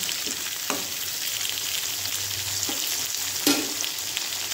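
Onion and tomato sautéing in a pan over a medium flame for a kara chutney, giving a steady close hiss of frying with a few soft stirring scrapes throughout, no voices.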